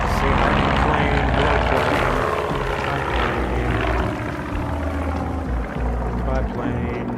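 An airplane passes overhead outdoors by a pool, a loud continuous roar that holds steady for several seconds with faint speech-like sounds mixed in.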